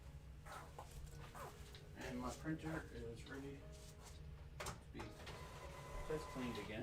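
A sublimation printer runs with quiet mechanical whirring and clicking, faint and close, under a person talking with barely any pauses.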